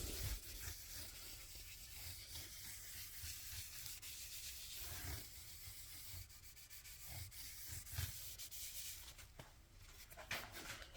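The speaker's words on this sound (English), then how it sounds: "some very, very fine grit abrasive pad" Fine-grit abrasive pad rubbing over the parts of a vintage Mosrite-style Guyatone EB-2 short-scale bass during a repair. The scrubbing is steady and close, with short back-and-forth strokes, some a little louder, and no talk.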